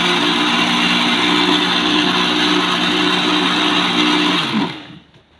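A blender runs loud and steady, whirring through mango and dragon fruit for a smoothie, then winds down and stops near the end.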